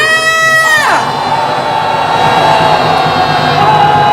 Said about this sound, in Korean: 네, 함성 한번 질러보겠습니다. 함성 시작!